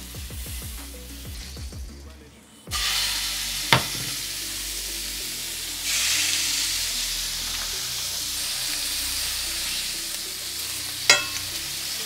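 Food with red beans hits a hot pan and breaks into a loud, steady sizzle that carries on close by. A couple of sharp stirring knocks cut through it, with no talking.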